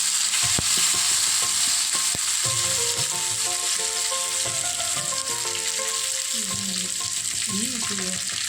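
Dried red chillies fry in hot oil with mustard seeds for a Kerala tempering, a loud, close, continuous sizzle broken by sharp pops and a few scraping stirs, with no voices.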